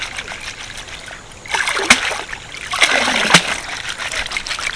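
Small mourala fish being stirred and washed by hand in pond water, with close splashing and trickling that swells into a few sharper sloshes and splashes.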